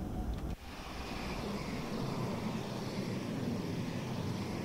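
A train rushes past in the Train Sim World 2 game on the Hauptstrecke Rhein Ruhr line, heard as a steady, broad roaring whoosh after a brief dip, with no talking.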